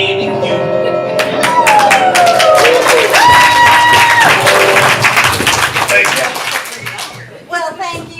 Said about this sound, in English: I'd like to apologize for starting that clap on the one.